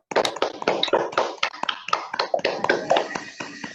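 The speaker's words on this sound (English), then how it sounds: "Shall we go give a huge round of applause for Ria?" An online audience claps for a presentation, a quick scatter of close, uneven hand claps from several people over a call, some louder and crisper than others, running continuously throughout.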